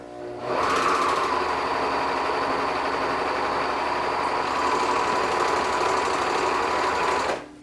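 Serger sewing machine with woolly nylon thread in the lower loopers, stitching a garment lining: a steady, fast, buzzing mechanical whir that starts abruptly, runs evenly and loud for about seven seconds, then stops.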